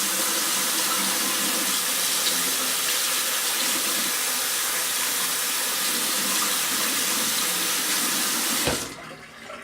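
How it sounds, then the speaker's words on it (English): High-pressure hot water sprays steadily into a glass bowl at a sink, a loud continuous hissing gush that runs for several seconds and then cuts off abruptly, leaving a faint drip and room tone. "I'm going to spray it with high pressure hot water again"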